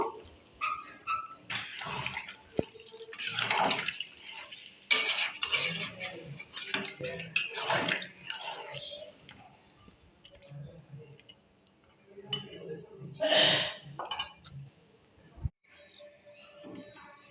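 Mutton kosha is stirred in a pot after water is added, with clinks and scrapes of a spoon against metal coming in irregular bursts and pauses.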